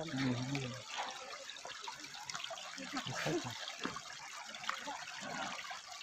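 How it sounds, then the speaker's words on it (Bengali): Several people wade on foot through water outdoors, with sloshing and splashing steps under their chatter, loudest at the start and then settling into a softer, steady swish. "জলে পা দিয়ে যেতে হবে"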